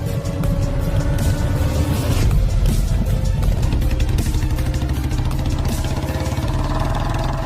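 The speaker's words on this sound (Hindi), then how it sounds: "इसके बाद बाबा बाइक को स्टार्ट करते हैं और स्टंट मारते हुए वहां से गुल्ली को लेकर काफी स्पीड में निकल जाते हैं।" A cartoon motorcycle engine runs steadily and loudly throughout, a continuous rumbling, clattering drone at constant strength, close up with no voices, as the bike is started and ridden off at speed.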